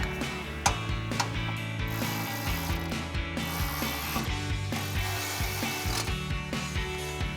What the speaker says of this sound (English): I'll go back and tighten down the 3 bolts that you loosened